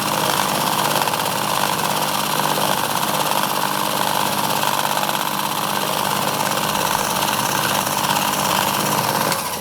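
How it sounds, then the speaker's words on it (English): A 3mm drill spot-drilling a finger engine part runs as a steady, loud machine whine and rumble, continuous throughout with no talk. "for the spot drill, we'll just use the 3mm, which is the smallest one I've got"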